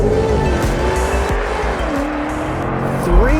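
A 2024 BMW X5M Competition with its V8 roars loud and close through a launch-control start, climbing steadily in pitch with a brief dip at a gearshift, then surging again near the end.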